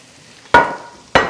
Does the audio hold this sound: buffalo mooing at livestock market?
no